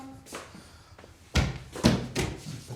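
A door slams shut with a heavy thunk in an indoor space, followed by a couple more knocks and bangs, fairly loud with no talk over it.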